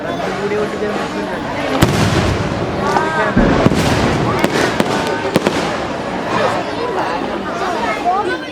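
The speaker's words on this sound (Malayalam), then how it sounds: "എല്ലാവരും കാത്തിരുന്ന് വെടിക്കെട്ട് തുടങ്ങി" Rapid fireworks bursts and crackles with whistling rockets rising, loud and close, over a steady murmur of crowd chatter at a temple festival fireworks display at Andalur Kavu, Kerala.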